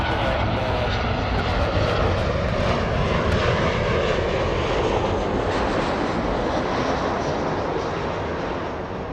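A fixed-wing airliner on the runway at Los Angeles LAX, a loud, continuous engine roar close by that holds steady and eases slightly toward the end, with faint voices beneath.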